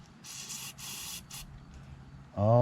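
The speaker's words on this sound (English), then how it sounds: "I'm just going to blow into the holes here." Breath blown into the carburetor holes of a Little Wonder hedge trimmer with a Briggs Vanguard engine, heard as short airy puffs of hiss close by, followed by a louder low buzzing rasp at the end.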